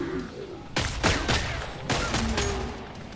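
Gunfire in the video game Killing Floor 3: a quick cluster of loud, close shots fired in rapid succession, echoing over steady game ambience.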